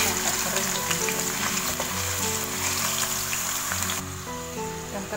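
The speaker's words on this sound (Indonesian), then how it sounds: "Goreng sampai kering ya teman-teman." Potatoes fry in hot oil for sambal goreng, giving a steady, close sizzle and crackle that runs throughout without pause.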